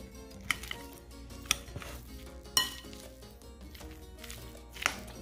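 A spoon works through a mashed potato and egg mixture in a bowl for potato and cheese patties, giving soft, quiet scraping with a few light clinks against the bowl spaced a second or two apart. No one speaks.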